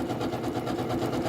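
Janome sewing machine stitching a pattern with a lock stitch, a steady close mechanical whirr with fast regular needle pulses running without a break for the whole short stretch.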